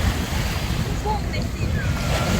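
Strong sea waves washing onto a shore in a continuous loud rumble and hiss, with heavy wind buffeting the microphone throughout.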